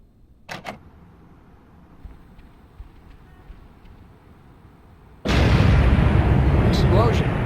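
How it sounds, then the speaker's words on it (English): A sudden loud explosion in a Spider-Man 2 (2004) video game cutscene, a dense roaring blast that cuts in after a quiet stretch and keeps rumbling, following a couple of brief earlier knocks. "Explosion. Better check it out."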